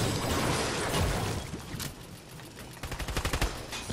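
Rapid video game gunfire crackles in a loud burst, fades into a mottled mid-clip lull, then returns as a quick run of sharp, evenly spaced shots near the end.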